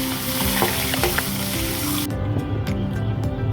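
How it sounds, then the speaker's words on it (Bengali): Eggs coated with turmeric, chili and salt sizzle loudly in hot oil, a dense crackling fry with stirring, the hiss thinning partway through but continuing steadily to the end. "ডিমগুলো হলুদ, মরিচ এবং লবণ দিয়ে একটু ভেজে নেব"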